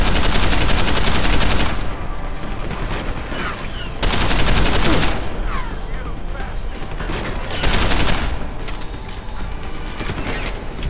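Sustained gunfire from the Deus Ex video game, dense rapid bursts rolling almost continuously at close range, swelling in a few louder volleys.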